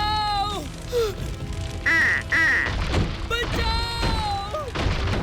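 Cartoon ducks quack in a string of loud, close calls amid a fire emergency, with a couple of heavy booming thuds in between and a voice speaking over part of it.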